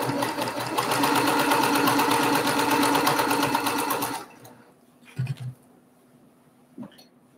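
A sewing machine stitches quilt block pieces in a loud, rapid, steady hum for about four seconds, then stops, leaving a quiet room with a few faint clicks and bumps.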